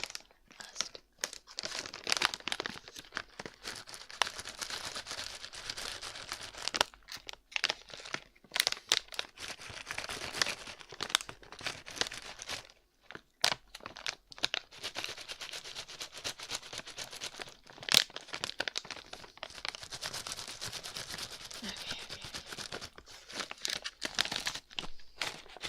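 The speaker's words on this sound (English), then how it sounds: "did you mean like chewing gum noises as in chewing gum or as in the bag?" A plastic chewing gum bag is crinkled and crumpled close up in an ASMR livestream, producing continuous bright rustling and crackling bursts broken by brief pauses.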